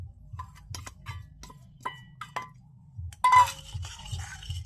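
Tamarind water stirred with salt, chaat masala and cumin powder, a spoon clinking against a glass or bowl in a steady ticking rhythm, then a brief louder scrape and swirl, close and quiet.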